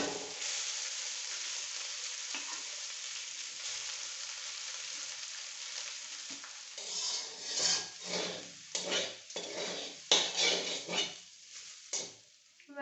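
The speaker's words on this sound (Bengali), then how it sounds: "টমেটোটা একটু ভাজুন এবার দিতেছি রান্না করা ভাত হাত দিয়ে দিতেছি" Tomato frying in a pan gives a soft, steady sizzle, then cooked rice is added by hand and stirred in, with a run of louder scraping and rustling strokes in the second half.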